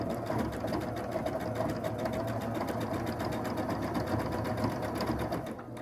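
A sewing machine runs steadily while stitching a quilt block, a fast even mechanical whir with rapid needle pulsing, close and continuous with no talking.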